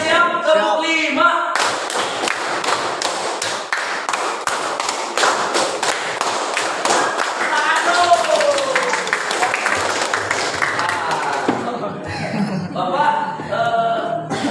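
A group claps in rapid rhythmic bursts, loud and close, with voices and chatter mixed in between the claps.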